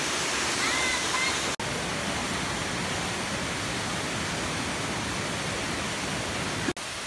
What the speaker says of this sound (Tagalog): dito kami sa Kakambal na Falls